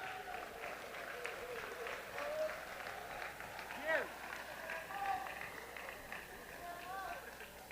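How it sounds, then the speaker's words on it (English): A crowd in a gym at a county boys' all-star basketball event applauding scholarship winners, with faint, distant, steady clapping under a voice over a PA. "Let's hear a round of applause for the boys."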